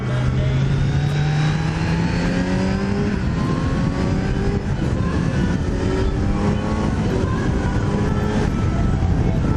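Kawasaki Z800 motorcycle engine accelerating on an unfamiliar road, a loud, continuous revving drone whose pitch climbs steadily, heard close and alone without talk.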